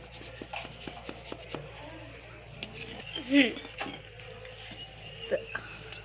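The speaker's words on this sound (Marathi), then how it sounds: "आणि छान मळून घेऊ, चांगलं एकजीव करून घ्यायचं" Besan and jowar flour dough for kothimbir vadi is kneaded by hand, giving soft, repeated rubbing and squishing strokes with faint clinks of a vessel, quiet and close throughout.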